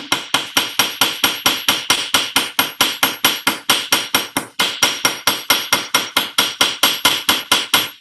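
Metal being hammered for fold forming, a steady rapid series of about three sharp ringing blows per second, close and loud, with no voices.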